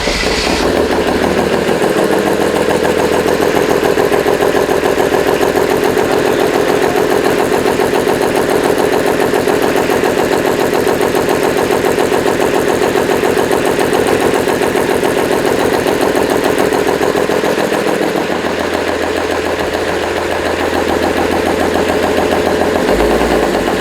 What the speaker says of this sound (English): it started finally after bleeding out the fuel system